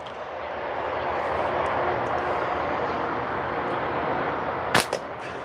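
Spitfire aircraft engine in an online combat flight video game: a steady droning roar holding for several seconds, with a sharp burst of gunfire near the end.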